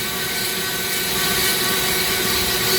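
Dremel rotary tool spinning at about 20,000 RPM carves into very hard zebra wood to shape a ring, giving a continuous high grinding whine with a faint rasp, loud and close without pause.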